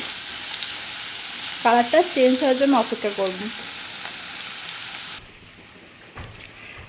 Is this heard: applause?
no